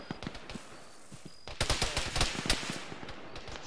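Bursts of rifle and machine-gun fire in an Arma military game, scattered single shots giving way to a dense, loud volley of rapid cracks in the second half.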